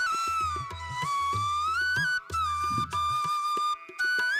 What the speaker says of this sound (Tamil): இப்போ விசில் வந்துருச்சு.